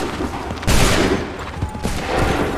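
Troops in a combat video game open fire on command, a sudden loud volley of massed gunshots crashing in, easing briefly, then swelling again as the firing continues.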